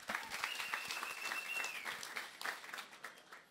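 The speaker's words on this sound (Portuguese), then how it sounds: "recebam aqui nesse palco, com fortes aplausos, Tiago Costa." Live comedy show audience applauding as a comedian is welcomed to the stage; fairly quiet, dense clapping sounds from a distance with a faint tonal sweep partway through.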